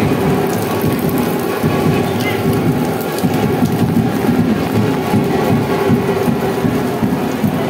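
Heavy rain pours at the entrance of a rock-cut cave, a loud dense roar with low rumbling beneath, steady and continuous throughout.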